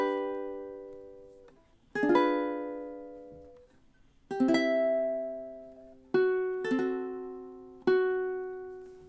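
Measures 19 and 20 of a song played on ukulele: a series of strummed chords and single notes at a steady, unhurried pace, each ringing and fading before the next, close and clear without any talking.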